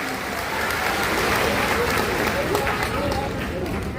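Crowd applause welcoming a minister at a tribal pride conference, a dense, sustained wash of many hands clapping, loud and even from start to finish.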